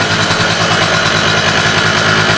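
A modded two-stroke scooter engine runs loud and close, a buzzy, steady high-pitched drone with a rapid pulsing throb and no pauses.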